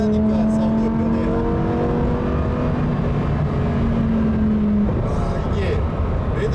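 Lamborghini Huracan STO engine revving loudly with steady rising harmonics, its tone shifting partway as revs climb past about 4,700 rpm toward the 8,500 rpm redline, heard from inside the car with a voice talking over it.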